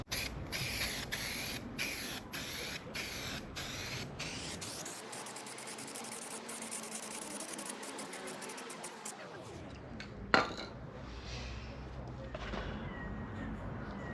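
An aerosol can sprays light coats of primer onto a car at home, a steady broad hiss running for several seconds, with short bursts and handling noise around it.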